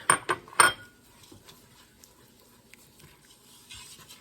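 Sugar stirred into melted butter in a pot for no-bake Nutella cookies: a few sharp metallic clinks of a spoon against the pot at the start, then quiet faint scraping and occasional soft taps.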